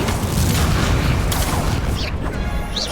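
A fiery Incendio spell blasts out during a wizard duel in Hogwarts Legacy, a loud, dense burst of flame with booming, crackling spell effects and a short voice line.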